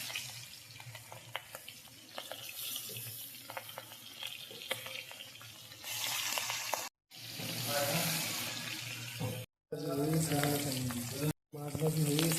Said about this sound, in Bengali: তেলের সঙ্গে পুরো ভেজে নিতে